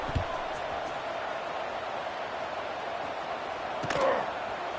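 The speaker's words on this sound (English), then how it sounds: "this crowd is buzzing after that last score" A crowd buzzes inside the Alamodome at a UTSA versus Army game in a video game college football season, a steady, dense stadium roar that swells briefly near the end.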